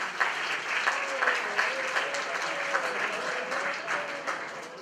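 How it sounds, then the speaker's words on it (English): Applause from an audience at an Azerbaijan presentation night in South Korea, greeting presenter Ahmed; a sustained round of crowd clapping, moderately loud and even, with a faint voice lingering beneath it. "Please give a warm round of applause for Ahmed."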